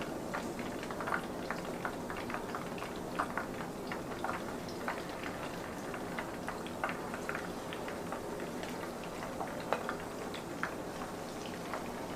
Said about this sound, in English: We're just gonna fry this on up.